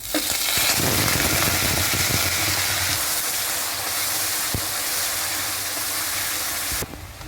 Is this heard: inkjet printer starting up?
no